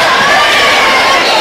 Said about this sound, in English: we get an MVP chant here from the student section